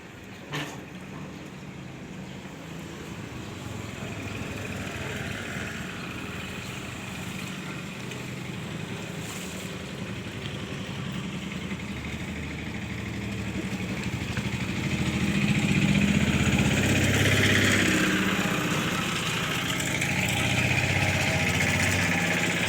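A farm tractor returning after sowing runs with a steady, continuous engine drone that swells louder toward the end, with no one speaking.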